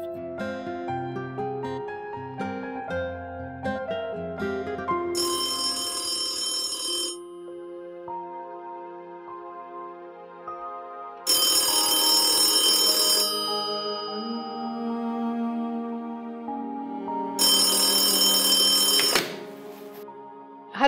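A telephone rings in three long, loud bursts separated by pauses, following a short melodic musical passage.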